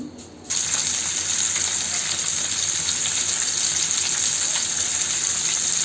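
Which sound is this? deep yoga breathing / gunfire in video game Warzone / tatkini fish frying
tatkini fish frying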